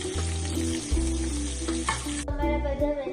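Potato, squash, carrot and tomato fry and are stirred in a pan, a steady close sizzle with a few scraping stir sounds.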